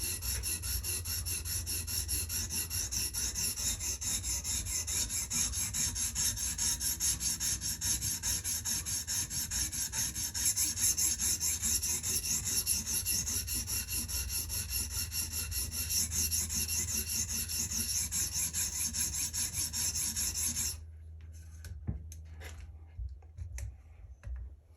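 Knife blade drawn repeatedly across a stone on a TSPROF Kadet Pro guided sharpener, a continuous soft rasping rub for about twenty seconds, then stopping abruptly into near silence with a few faint clicks.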